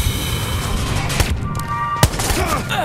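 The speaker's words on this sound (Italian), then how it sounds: "Mi stanno sparando." Gunfire aimed at the player in Watch Dogs rattles as a dense, loud volley of shots with sharper cracks standing out, steady throughout and set against game noise.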